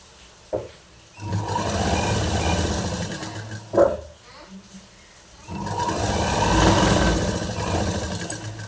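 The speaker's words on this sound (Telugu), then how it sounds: "కుట్టేసుకోవాలి ఇలా చివరి వరకు మడత పెట్టేసుకొని చిన్నగా" A sewing machine stitches along the folded edge of a saree in short bursts of steady whirring, close by, separated by pauses and a few clicks, with someone talking between runs.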